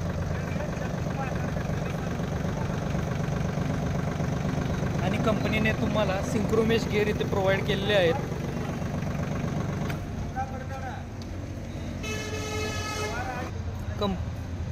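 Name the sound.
Swaraj Target 630 tractor Yanmar engine idling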